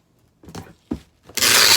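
Packing tape tears and rasps loudly off a tape gun onto a cardboard shipping box holding a wreath, with a couple of short crinkles before one long, hissing pull.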